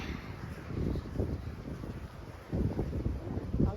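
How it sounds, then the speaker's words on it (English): Strong wind buffets the microphone in low, gusty rumbles that rise and fall, loud and close, with no voices, on open fields along the Cotswold Way walking trail. "It's very, very windy still."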